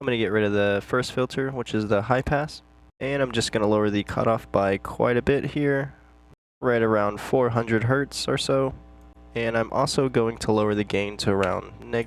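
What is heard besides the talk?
No everyday noises stand out.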